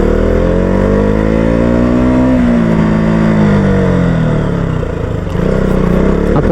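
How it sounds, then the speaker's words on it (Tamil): A KTM Duke 200 BS3 motorcycle engine hums loud and steady while riding, its pitch sweeping up and down with throttle changes, with a few faint pops from the exhaust near the end. "இன்ஜின் பாப்பிங் சவுண்ட் உங்களுக்கு கேட்குதான்னு தெரில."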